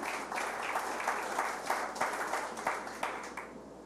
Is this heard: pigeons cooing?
no